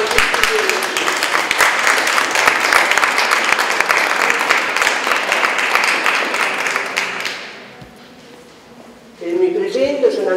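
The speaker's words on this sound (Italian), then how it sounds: "un applauso a tutti gli studenti" Audience applauding students at a Florentine cultural associations festival, dense sustained clapping that fades out, then a voice speaks.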